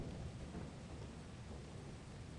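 Steady rumbling thunder with rain during stormy weather in the Lethal Company video game, a continuous low roar filling the scene without speech.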